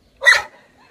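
A single dog's bark at night in a rural village house, one sharp, fairly close yelp lasting a fraction of a second, followed by quiet and a faint trailing sound.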